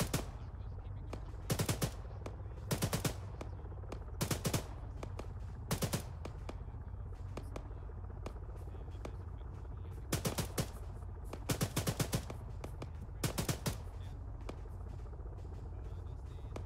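Gunfire in the military shooter Arma 3 during a combined-arms joint operation: short automatic bursts repeat in clusters over several seconds, sharp but somewhat distant, with quiet background between volleys.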